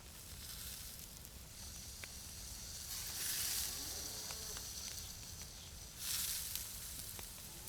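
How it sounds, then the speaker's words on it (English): Meat cooking in the survival game DayZ gives a soft, continuous sizzling hiss with low crackle, swelling louder twice, fairly faint and heard without speech. "They've done something strange to the sound of cooking meat."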